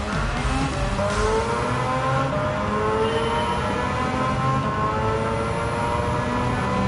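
A rotary-engine-swapped Mazda MX-5 in Gran Turismo 7 revs and roars continuously at high pitch, its tone rising and falling through gear changes, loud and steady with no talking.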